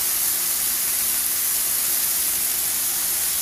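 Burger patties sizzling in a hot pan, a loud, even hiss of searing fat that holds steady throughout with no talk.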